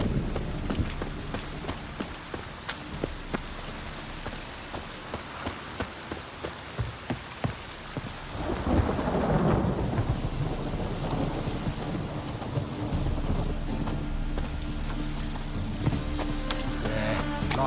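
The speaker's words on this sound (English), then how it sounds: "Rain again." Steady rain pours down in The Witcher 3 with thunder rumbling throughout, a loud crack and roll building midway before the downpour continues evenly.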